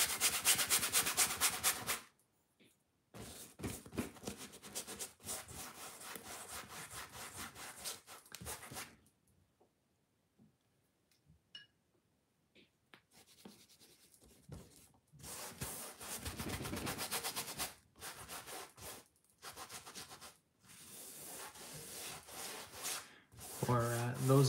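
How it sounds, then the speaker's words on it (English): A rag rubbed over a painted canvas to wipe paint away, a soft scratchy scrubbing in bursts with pauses of near silence between strokes. "I am going to be rubbing it off with that rag"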